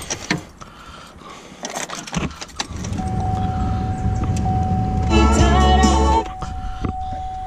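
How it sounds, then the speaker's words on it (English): Keys jangle close by, followed by a car with its engine warning light on starting up with a rising engine hum and a steady electronic chime tone. "Let's get the keys."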